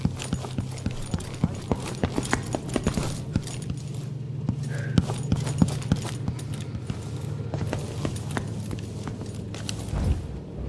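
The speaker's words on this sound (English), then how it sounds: "I hear footsteps, but I don't know where they're coming from." Footsteps in the Dishonored 2 game, set in the Clockwork Mansion: a steady run of sharp, clicking steps at moderate volume over a low droning hum, with no talking.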